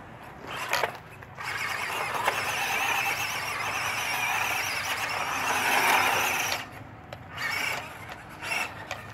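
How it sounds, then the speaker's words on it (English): A WPL D12 RC drift truck runs at full power close by, making a continuous high-pitched whirring squeal from its motor and tires for several seconds before it backs off into shorter bursts. "Cool little drift truck."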